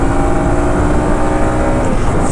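A Runner Knight Rider V2 150cc semi-racing motorcycle accelerates through the gears, its engine a steady, loud, continuous drone with a rising tone and no talk.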